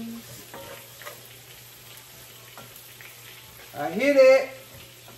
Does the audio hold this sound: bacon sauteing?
yes